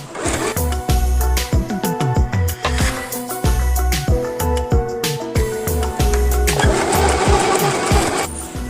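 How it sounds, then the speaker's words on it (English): A sewing machine runs a zigzag stitch along fabric to close a seam against fraying, its needle clattering in a fast steady rhythm, loud and close throughout with brief slowdowns. "Now we're going to be doing a zigzag stitch so we can keep this side closed and not fraying."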